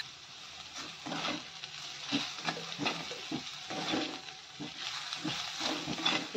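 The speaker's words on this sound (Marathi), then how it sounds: "हे चांगलं फ्राय करून घ्यायचं आहे व्यवस्थितपणे" Red pumpkin curry, salted, frying in a pan with a continuous low sizzle and frequent rhythmic scraping and tapping of the spatula against the pan.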